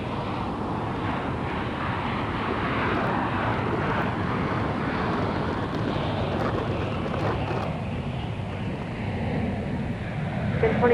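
An airliner taking off from runway 22 right at Boston Logan Airport, heard as a steady, loud broadband engine roar with wind noise that holds throughout and swells slightly toward the end.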